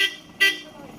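A short car horn toot from a passing vehicle on a road, one brief loud blast after a faint earlier beep.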